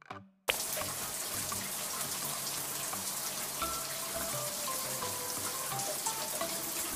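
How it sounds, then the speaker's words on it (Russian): Water runs steadily from a tap as soap foam is rinsed off a cartoon cat's face, a continuous even splashing stream that starts abruptly after a brief moment of quiet. "Смой водой мыльную пену."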